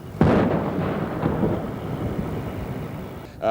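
A huge explosion aboard the burning ship Jupiter, a sudden loud blast that opens into a sustained deep rumbling roar with no speech.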